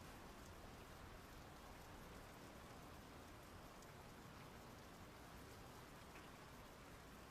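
Heavy rain pours steadily, a dense, even wash of falling water drumming on surfaces with no break, close and constant throughout.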